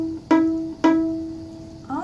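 A violin string plucked with the pointer finger pressed at the first tape, sounding as two separate plucked notes that each ring and slowly fade, with the start of another pluck at the end.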